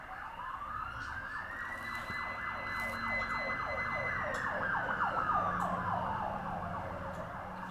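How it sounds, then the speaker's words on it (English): A fire truck's wailing siren sweeps up and down in pitch as it passes at a moderate distance, with faint traffic rumble underneath. "That was a fire truck passing by."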